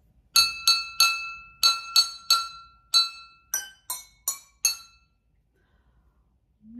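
Jingle Bells is picked out as a short melody of eleven clear, ringing glass-like struck tones in a steady rhythm, each decaying quickly, followed by near silence.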